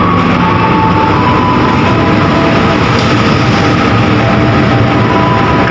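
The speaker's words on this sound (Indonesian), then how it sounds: "Kereta api komuter lain Penataran dari stasiun Blitar dengan tujuan akhir stasiun Surabaya Kota via Kertosono masuk di jalur 1 stasiun Kediri" A Penataran commuter train from Blitar to Surabaya Kota rolls into track 1 at Kediri station, a loud, steady rumble of wheels and engine filling the whole stretch without a break, close by.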